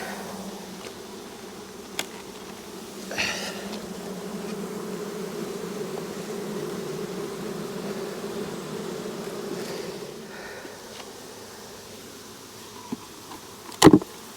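Honeybees buzzing around an open hive being split during a nectar dearth, a steady close drone with individual bees passing by, ending with a few sharp knocks.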